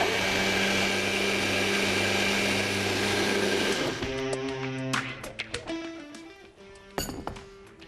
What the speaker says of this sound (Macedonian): пуште блендер